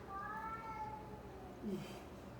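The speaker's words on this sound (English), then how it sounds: "I don't know if you can hear my cat" A cat meows a few times from downstairs, a drawn-out cry followed by a shorter one, fairly faint and somewhat distant.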